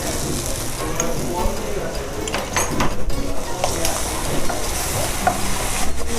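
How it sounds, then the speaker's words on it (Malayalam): A spoon stirs chicken escalope sauce seasoned with salt and black pepper in a hot pan, giving loud, close, repeated scraping strokes over a steady sizzle. "നന്നായിട്ട് സോട്ട് ഇളക്കി മസാലയൊക്കെ ഒന്ന് പിടിക്കാൻ പാകത്തും ഇളക്കണം"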